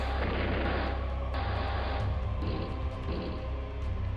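Artillery fire from the video game Advance Wars: Days of Ruin, a dense, loud, continuous barrage of booming game blasts with sharp bursts layered over a steady low rumble.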